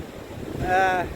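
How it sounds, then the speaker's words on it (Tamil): Strong sea wind blowing onshore at the coast during cast net fishing, a loud buffeting rush against the microphone with a brief swelling surge of waves, no speech. "காற்று வர பயங்கரமாக இருக்குது சரியான காற்று"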